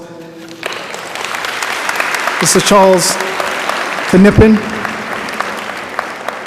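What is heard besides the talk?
audience applause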